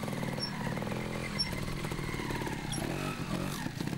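A trials motorcycle engine runs steadily close by, buzzing and revving slightly for several seconds with a faint clatter and no voices.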